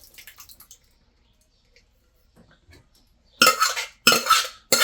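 A spoon stirs dal makhani in a pot after urad dal goes into a tomato and Kashmiri chilli gravy. Faint light taps come first, then a few loud scraping strokes close by near the end.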